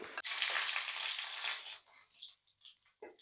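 Mustard seeds hitting hot oil for mango pachadi, an immediate loud crackling sizzle that holds for about a second and a half, then thins into scattered pops and spits.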